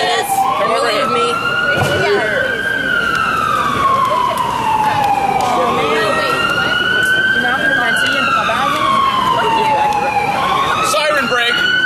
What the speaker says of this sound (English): Siren break.